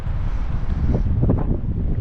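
Strong wind over Diablo Lake buffets and rumbles steadily across the microphone, with low gusty roaring and faint watery texture underneath.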